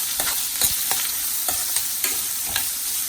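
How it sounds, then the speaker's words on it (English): Diced onions sauteing in a pan over a high flame, a steady close hiss of frying with regular scraping strokes of a spoon stirring through them. "Keep on sauteing it till the onions become transparent."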